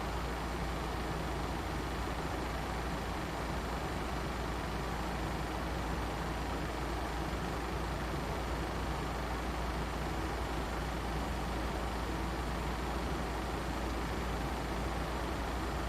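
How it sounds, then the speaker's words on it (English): Southwest Airlines airliner cabin during descent toward Houston Hobby, with a steady, dense roar of jet engines winding down, continuous and unbroken, and no talking. "And the engines, you can hear them kind of winding down right now"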